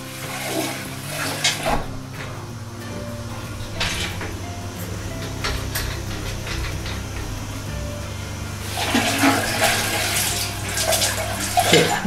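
Water flowing out of a combi boiler radiator system during flushing, a steady rushing splash with a gurgling tap-like stream that grows louder toward the end, with no talk.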